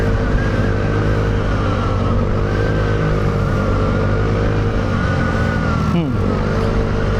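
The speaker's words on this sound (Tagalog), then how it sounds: "Tsaka nakamotor tayo" A motorcycle rides along a road between Tagaytay and Batangas, its engine droning steadily up close with wind rush and a brief dip in pitch near the end, while people talk over it.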